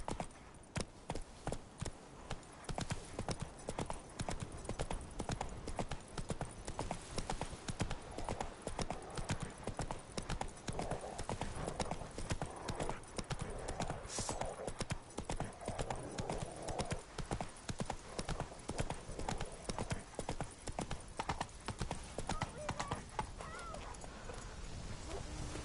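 Roach the horse gallops through The Witcher 3 on PS5, hooves pounding in a fast, continuous clip-clop rhythm that stays loud and near for the whole stretch, with an occasional faint whinny.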